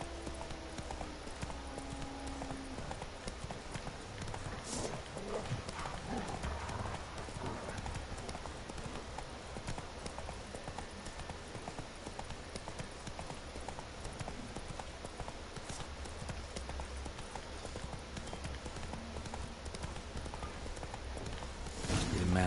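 Roach, a horse in The Witcher 3: Wild Hunt, clip-clops along with steady hoofbeats throughout, close and continuous over game ambience, with talk occurring alongside.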